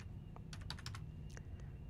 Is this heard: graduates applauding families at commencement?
no